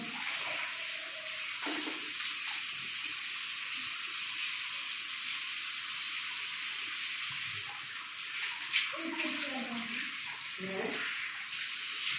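Running tap water pours while gram flour is washed, making a steady, bright hiss that lasts throughout, with faint voices and small clatters underneath.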